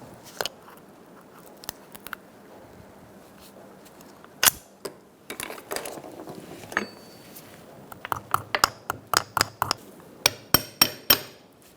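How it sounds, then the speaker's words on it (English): Sharp hammer blows peen over the two ears of a CV boot clamp on a 2007-2017 Ford Expedition axle, a few scattered strikes early, then a rapid close series of metallic taps near the end. "use a hammer to smash it down, lock it in place"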